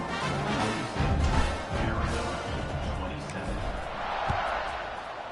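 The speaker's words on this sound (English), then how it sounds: "this crowd is buzzing after that last score" A football stadium crowd buzzes in a continuous broad murmur with occasional swells, with a commentator talking over it.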